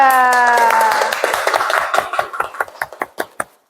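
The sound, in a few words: applause for group 3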